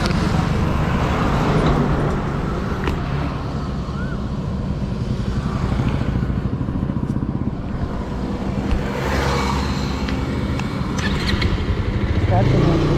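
Motorcycle riding along a highway on a road trip near Tiruchirappalli, with a steady loud roar of engine and rushing wind noise throughout and traffic sounds mixed in.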